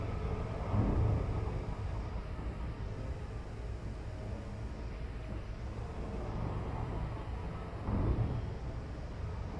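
A spaceship engine with a stuck runaway throttle in the space game Elite Dangerous, a steady loud roaring rumble that swells twice briefly, continuous and droning throughout.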